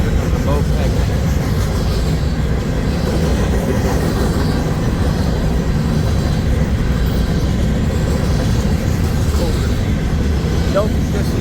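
A Union Pacific freight train rolls past at close range with a continuous low rumble and steady wheel noise, loud and unbroken throughout.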